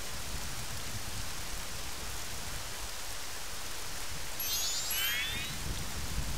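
Rain in The Legend of Zelda Majora's Mask, a steady, hissing downpour of even noise that runs unbroken throughout, with a brief shimmering chime rising near the end.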